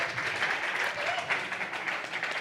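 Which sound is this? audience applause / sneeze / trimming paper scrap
audience applause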